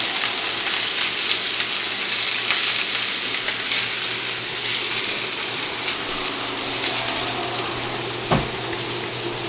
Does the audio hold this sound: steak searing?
yes